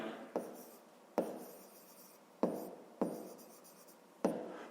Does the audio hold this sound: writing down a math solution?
yes